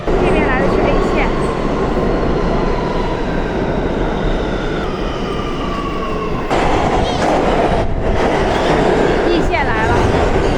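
An A line New York subway train pulls into a station with a loud, close rumble and screeching wheel squeals that rise and shift as it brakes.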